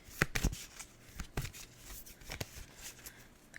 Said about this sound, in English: The cards are shuffling weird.